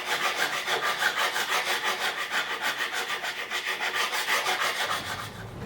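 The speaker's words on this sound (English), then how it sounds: "The tools I'm going to be using are this relatively fine rasp, or it's more of a file really" Fine rasp or file worked back and forth across a wooden guitar neck, each stroke a close, rhythmic scraping rasp repeating evenly for several seconds.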